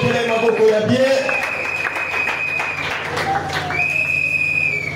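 A church congregation at a prophetic conference cheers, whistles and claps in a loud, continuous burst, with shouted voices and a shrill sustained whistle riding over the steady applause.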